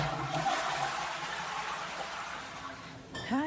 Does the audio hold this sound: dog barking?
no